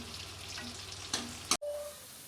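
Potatoes frying in hot oil for a potato and capsicum dish give a steady, close crackling sizzle, broken by a couple of sharp clicks before it cuts off abruptly.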